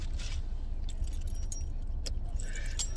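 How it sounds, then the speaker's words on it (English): A small Swiss Army keychain jangles steadily, close and bright, over a low rumble of a car interior. "That little Swiss Army keychain"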